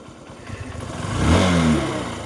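Motorcycle engine revving as a young child learns to ride, the idle rising into a louder, swelling rev that peaks and eases, close by with no talk.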